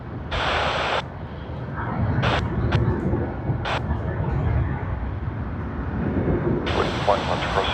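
Virgin Australia airliner at Sydney Airport, a distant broadband jet roar rumbling steadily throughout, interrupted by short bursts of radio-squelch-like noise at the start and end.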